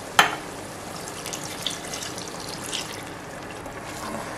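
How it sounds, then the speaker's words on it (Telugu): Water for a mutton gravy curry is poured into a jar, giving a soft steady trickle and splash after a brief sharp clink at the start, quiet and close with no talking. "ఈ జార్లో నేను 250 ml ఆఫ్ వాటర్ వేసుకొని దీంట్లో కలిపేసుకుంటాను."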